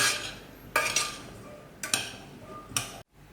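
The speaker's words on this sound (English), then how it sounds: "I'm just going to stir it until it dissolves, and all the beans will get a bit of sugar to help the culture grow" A spoon stirs sugar into cooked soybeans for natto, scraping and clinking against the bowl in three sharp, evenly spaced strokes, close and alone with no talk.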